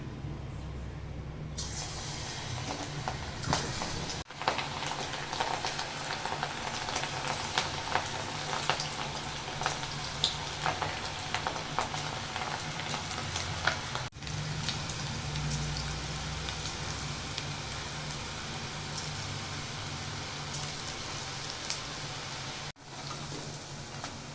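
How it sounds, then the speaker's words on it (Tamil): Battered cauliflower pakoda fries in hot oil with a dense, steady crackling sizzle, like heavy rain, that runs unbroken for over twenty seconds at close range with no talking. "இதை நம்ம வறுத்து எடுத்துருவோம். எண்ணெய் ஊற்றிக்கலாம்."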